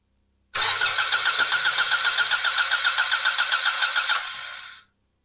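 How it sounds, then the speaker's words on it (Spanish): A car engine turns over with a rapid rhythmic cranking whir for about four seconds, then the sound fades and cuts out. It is loud and close, with no voices. "Ahora arranquemos el motor y veamos si el voltaje cae a menos de 1 voltio."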